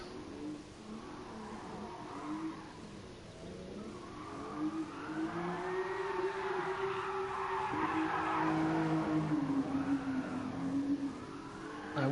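A GT Sport car slides around Suzuka, engine revving hard while tyre squeal and skidding build and swell toward the end, a continuous loud drift run with no voices.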